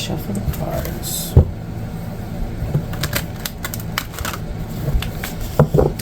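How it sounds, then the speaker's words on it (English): Tarot cards riffle and slap in short bursts, scattered irregularly over several seconds against a low background hum. "shuffle the cards"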